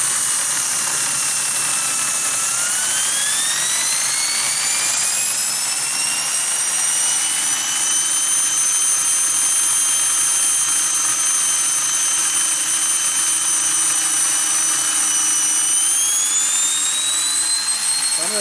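Brand new steam turbine running under load, a loud continuous high-pitched whine whose tone rises, holds steady for a long stretch, then climbs again near the end over a low mechanical rumble.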